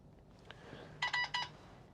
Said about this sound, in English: the system beeped